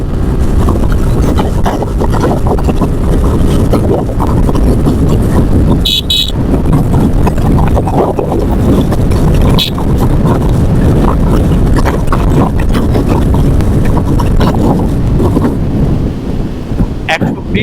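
A Suzuki Gixxer FI ABS motorcycle pushed to high speed on a highway gives a constant loud engine and exhaust drone buried in buffeting wind noise, with a brief horn-like toot near the middle.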